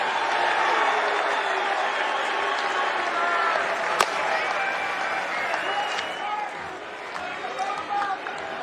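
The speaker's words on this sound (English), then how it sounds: "And the crowd is into it" A college baseball crowd at an NCAA tournament regional game between UConn and Oklahoma State, a steady roar of cheering and clapping with a sharp crack partway through, under a commentator's talk.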